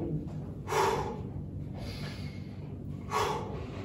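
Deep breaths drawn in while performing hip thrust exercises, with several close, audible airy inhales and exhales repeating at a slow rhythm and no talking.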